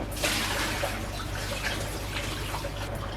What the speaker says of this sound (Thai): ผมรีบเทน้ำรีบเสร็จเลยดีกว่า